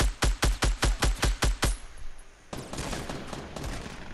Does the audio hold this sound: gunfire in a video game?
yes